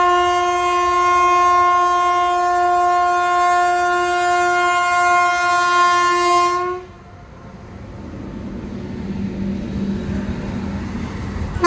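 A train pulling into a station, opening with a long, loud, sustained horn blast that cuts off after about seven seconds, followed by quieter rumbling of the rail cars.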